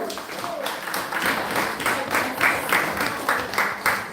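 Steady applause from an audience at a 90th birthday celebration, a dense patter of many hands clapping at a moderate level throughout, with a voice faintly underneath.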